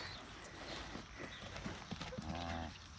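Cattle move around a creep feeder for calves on a neighbouring farm, with faint, scattered hoof thuds and a low lowing sound near the end over quiet outdoor ambience.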